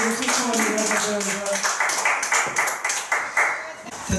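A church congregation claps in a quick, uneven burst, the applause loud and close with voices mixed in over it.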